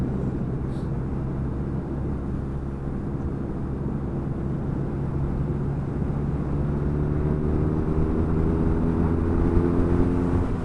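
A Triumph Urban GS motorcycle rides along a slippery, muddy road, its engine a steady, close low drone that rises gently in pitch toward the end, with constant rumble and wind.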